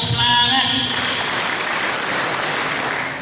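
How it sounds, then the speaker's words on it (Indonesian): Audience of company employees at a communal iftar gathering clapping together in a burst of spirit claps, loud and close, with a brief voice at the start before the crowd noise takes over. "5 kali tepuk semangat"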